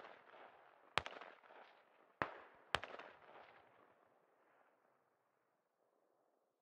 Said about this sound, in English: They've been mortaring that a bit.